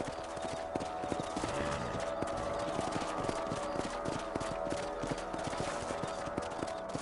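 Steady, rhythmic clip-clop of horse hooves at a walking pace in the video game Red Dead Redemption, close and continuous over a constant background hum.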